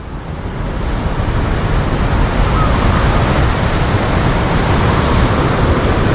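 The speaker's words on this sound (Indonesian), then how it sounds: "dengan suara air laut yang benar-benar bergemuruh" Roaring sea waves at Gunung Kumbang on the southern coast, a steady, loud, broadband wash of surf that swells slightly at the start and then holds without a break, no voices.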